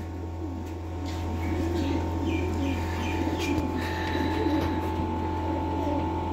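Pigeons offered for sale at a bird market in Sialkot coo softly and repeatedly over a steady low hum, with faint chirps and a little background talk.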